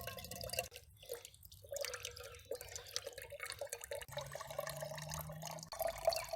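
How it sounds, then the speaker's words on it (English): Water drips and trickles from a gravity-fed camping water bag at a night campsite, giving faint, close splashes and small irregular droplet sounds. "Just gravity feed some water."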